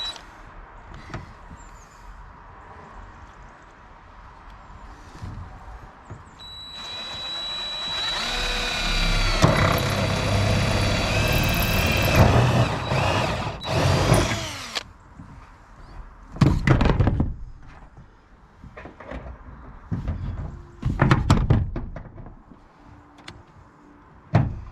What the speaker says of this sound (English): So I'm going to screw down.